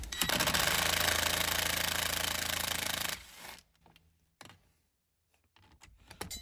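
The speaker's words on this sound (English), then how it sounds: "when you're using little cordless impacts and stuff, put it on the low setting" Cordless impact driver backing out T30 bolts in a Ford F-150 rear seat, a loud continuous rattling hammer for about three seconds, then stopping, followed by short quieter bursts and pauses.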